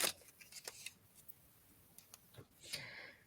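Tarot cards are shuffled by hand close up in a quiet room, giving soft irregular riffling clicks and brief rustles in scattered bursts.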